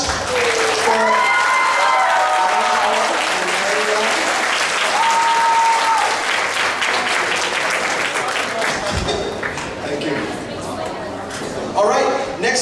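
Sustained audience applause at an anime convention costume contest, a dense wash of clapping that fills the room for several seconds with cheering and an announcer's voice over it, tapering off near the end.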